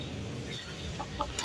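Faint clucking from an old, sick fighting chicken, a few short soft clucks near the end over a steady low background murmur.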